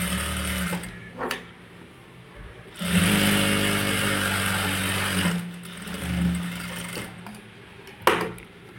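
An electric sewing machine stitching along a blouse lining, a steady close whirring run of several seconds bracketed by shorter starts and stops, loud and with no voices.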